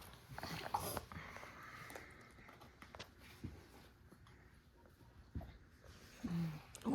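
Eight-week-old black Labrador puppies snuffling and sniffing close by, with soft rustling, light movement and a couple of faint whimpers in a fairly quiet indoor setting.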